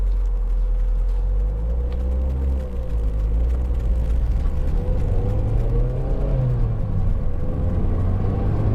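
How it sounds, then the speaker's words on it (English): Road traffic passes by on a usually quiet road: a steady low rumble of vehicles with engines rising and falling as cars go past nearby, no talk. "Just wait for the traffic to clear"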